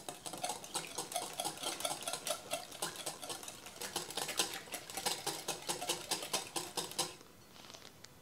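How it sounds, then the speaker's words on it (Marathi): Eggs and banana being whisked together in a bowl for a banana cake, a fast steady clatter of utensil against the bowl that goes on for about seven seconds and then stops. "आता ही अंडी आणि केळी आपण छान मिक्स करून घ्यायची आहेत."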